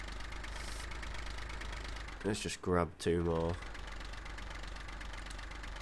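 A diesel tractor engine idling in Farming Simulator 15, a steady low rumbling knock under brief speech.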